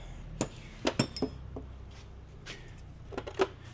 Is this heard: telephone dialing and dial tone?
no